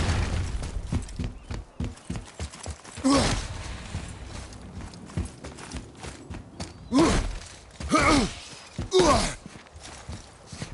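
Horse hooves clip-clopping in God of War, a steady rhythmic trot of moderate loudness broken by a few grunts and effort sounds.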